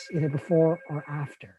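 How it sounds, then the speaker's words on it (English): A telephone rings faintly in the background as a steady tone beneath a man's continuous speech. "I apologize for the phone in the background"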